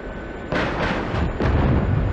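Heavy cannon bursts from a Gazelle helicopter's guns in the DCS combat flight simulator, two loud, booming volleys close together with no talking.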